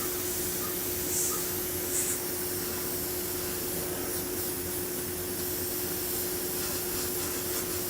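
An airbrush spraying paint onto skulls, a steady close hiss of compressed air running without a break and alone.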